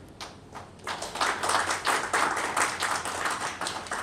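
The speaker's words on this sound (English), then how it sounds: "Let's give him a big round of applause." An audience at an HR roundtable event applauds after a felicitation, clapping building quickly from scattered claps to a steady, dense round of applause held at full strength.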